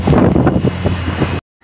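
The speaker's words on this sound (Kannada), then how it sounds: "ತುಂಬ ಗಾಳಿ ಇತ್ತು" Strong wind on the way to Rameshwaram and Dhanushkodi buffets the microphone with loud, gusty, rumbling pulses for over a second, then cuts off abruptly into near silence.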